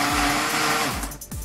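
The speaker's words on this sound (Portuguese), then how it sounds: "vamos bater esse liquidificador" A blender whirs loudly and steadily while blending homemade pizza ingredients, its motor pitch dipping as it churns, then briefly cutting out and starting again.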